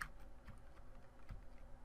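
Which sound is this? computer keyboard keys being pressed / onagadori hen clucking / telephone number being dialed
computer keyboard keys being pressed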